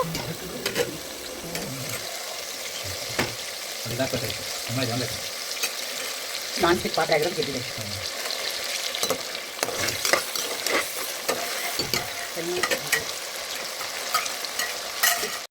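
Ground masala frying in oil in a pot for vegetable pulao, stirred with a spoon: steady close sizzle under repeated scraping strokes against the pan bottom, no talking.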